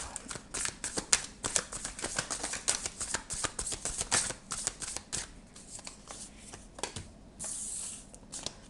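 Tarot cards being shuffled for a reading: a steady run of close, crisp riffling and flicking bursts, with a short softer sliding passage near the end and no talking.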